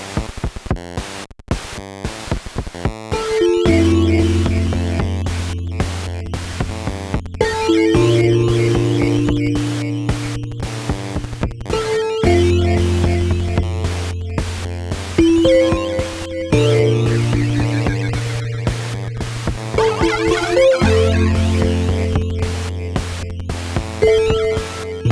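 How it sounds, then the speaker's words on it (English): A Moog synth lead line runs through a SolidGoldFX Oblivion bit-crushing flanger pedal, giving loud, sustained stepped melodic notes. A gritty, crunchy digital texture and a pulsing, choppy edge run throughout. "I'm gonna make my Moog synths sound like 8-bit and crunchy."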